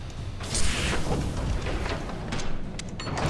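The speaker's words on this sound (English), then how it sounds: "I hear I hear them launching torpedoes" Torpedoes launching in the video game From the Depths: a deep, rumbling boom swells and rolls on for several seconds, with distant thuds and a low mechanical roar underneath, no voices.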